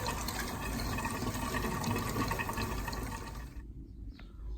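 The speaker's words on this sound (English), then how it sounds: "we've got the water going out there, and that's just going to drain there." Water drains from an underfloor heating pipe, a steady rushing, gurgling flow that holds strong for several seconds, then cuts off abruptly, leaving a faint trickle.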